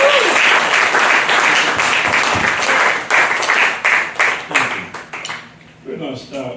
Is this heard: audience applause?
yes